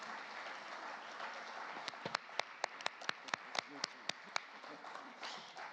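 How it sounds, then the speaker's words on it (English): Delegates in an assembly hall applauding, a soft distant wash of clapping with a run of about a dozen sharp, evenly spaced louder claps from one pair of hands nearby. "the Secretary General and his team deserves a round of applause"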